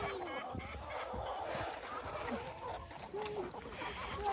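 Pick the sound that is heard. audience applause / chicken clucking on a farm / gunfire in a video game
chicken clucking on a farm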